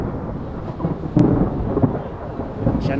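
Thunder from an approaching storm over Quito, Ecuador: a low rolling rumble with a sharp crack about a third of the way in, over a steady background wash, with no talk.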